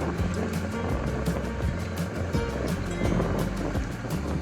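Steady, loud wind rushing and buffeting throughout, with a continuous low rumble and airy hiss, no voices.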